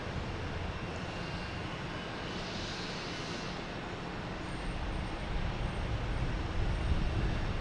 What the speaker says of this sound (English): Here we get United Airlines taking off to Chicago, flight 2040.